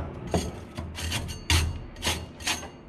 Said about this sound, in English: Paint scraper, not the right tool for the job.